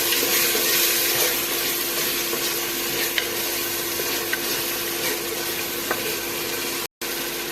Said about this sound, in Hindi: अब हम मसालों को अच्छे तरीके से भून लेंगे।